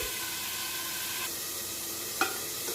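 Salted food hisses and sizzles in a cooking pan under a steady frying noise, with two short, sharp clinks of stirring near the end. No one speaks.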